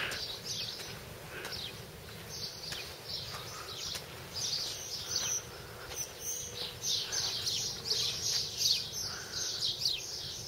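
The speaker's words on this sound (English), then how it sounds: "Sparrows. And resort pigeons." Sparrows and pigeons chirp around the grounds of Castle Bellver, a steady stream of quick, bright tweets and calls at moderate distance over a low outdoor rumble, with no talking.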